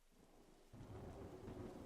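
Thunder rumbles low and heavy as steady rain pours, the storm swelling suddenly louder partway through and continuing as a dense wash of falling rain.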